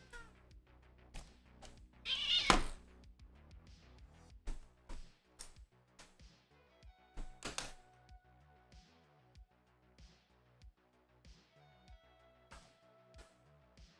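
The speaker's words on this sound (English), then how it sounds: "I believe I have a cat that is possessed." A house cat meows in a few short calls amid household clatter and shuffling, with quiet ambient noise between the sounds.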